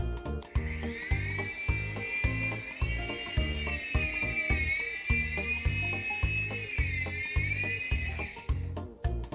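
An AirFun AF610 three-channel RC helicopter flying indoors makes a continuous, close, high-pitched whine from its small electric motor and rotors, with a rapid mechanical rattle beneath, holding steady for about eight seconds.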